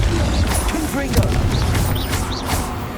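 A Confringo fire spell explodes in Hogwarts Legacy amid loud, steady combat noise with booming impacts and clattering effects, while a voice calls out over it.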